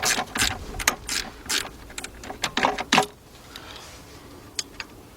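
A ratchet loosens alternator bolts on a 1986 Mercury Marquis with a 3.8 engine, giving several quick bursts of clicking at an irregular pace, then quiet with a few faint taps.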